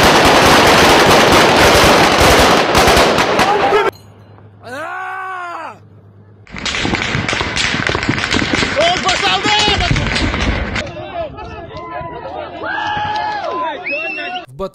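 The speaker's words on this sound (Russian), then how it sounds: "Но потом кто-то начал стрельбу." Loud bursts of gunfire and crackling shots during the Kyrgyz-Tajik border conflict, dense and chaotic at first, then pausing and returning with shouting crowd voices and screams mixed in.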